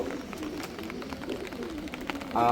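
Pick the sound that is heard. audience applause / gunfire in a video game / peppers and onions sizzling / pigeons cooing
pigeons cooing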